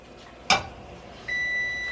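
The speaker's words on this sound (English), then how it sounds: "now I'm going to set my timer on 2 minutes." A kitchen timer is being set while cooking, a sharp click or tap followed by a steady high electronic beep that starts and holds, close and alone without speech.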